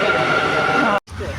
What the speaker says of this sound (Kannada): ಏನಪ್ಪ ಇವತ್ತು ಏನೋ ಮೆಟ್ರೋ ಟ್ರೈನ್ ತೋರಿಸ್ತಾ ಇದ್ದೀರಾ ಅಂದ್ಕೊಂಡಿದ್ದೀರಾ?